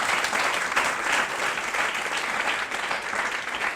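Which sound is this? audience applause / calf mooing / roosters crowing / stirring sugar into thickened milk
audience applause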